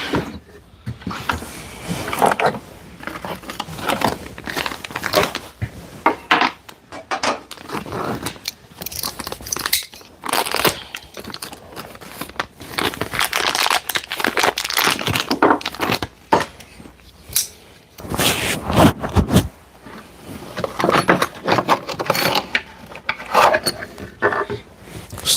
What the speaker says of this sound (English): let me put in the bolts